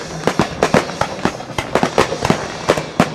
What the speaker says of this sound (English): Pounding away at the fireworks.